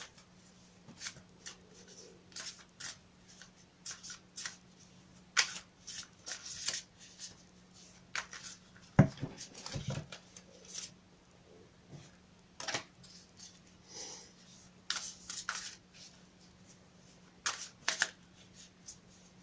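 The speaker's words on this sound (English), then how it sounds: "I'll shuffle them for you again on camera." Oracle cards, quite large, are shuffled by hand at close range: soft riffling and papery flicks, with slaps and rustles coming in irregular bursts throughout.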